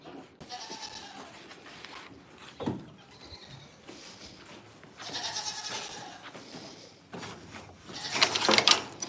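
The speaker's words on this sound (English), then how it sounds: "Why are all the other goats being so loud this morning?" Goats bleat loudly inside a barn on a goat farm in the morning, several animals calling in repeated bursts, with the loudest cluster near the end, amid faint rustling and shuffling.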